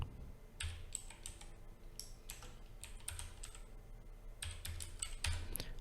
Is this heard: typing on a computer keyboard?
yes